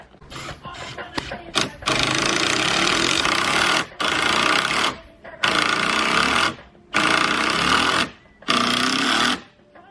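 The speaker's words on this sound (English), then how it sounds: "used a smaller drill piece and then went in with the bigger one to prevent any splits in the wood" A power drill whines through timber in repeated bursts while a wooden gate is built, about five long runs separated by short pauses, loud and close.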